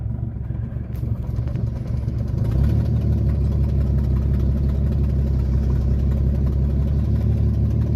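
A car engine idles while cold, a steady low rumble throughout that swells and grows heavier about a third of the way in, then holds level and close with no talk over it.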